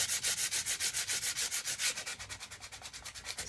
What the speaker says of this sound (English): sandpaper over so it's all clean